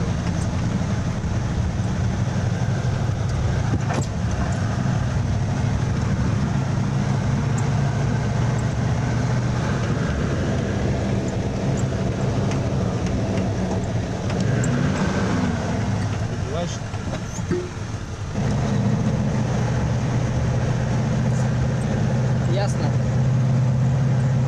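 A vehicle drives steadily back to camp on a training ground, its engine rumbling low and continuous from inside the cabin, with occasional bumps and rattles and people talking softly over it.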